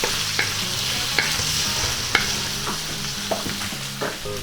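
Fishballs for pansit bihon are stirred in a sizzling pan, a steady fry hiss broken by regular clacks and scrapes of a spatula against the pan, close and clear with no talking.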